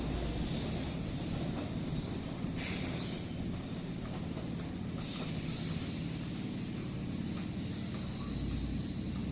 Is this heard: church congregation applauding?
no